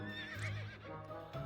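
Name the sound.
horse neighing while being ridden in a video game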